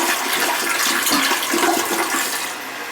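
An old toilet flushing with a loud, rushing water surge that holds steady for a few seconds and then begins to ease off.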